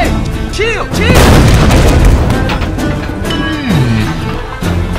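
Cannon fire in the Roblox game Blox Fruits: a loud booming blast followed by rumbling bursts, mixed with game effects and excited voices talking over it.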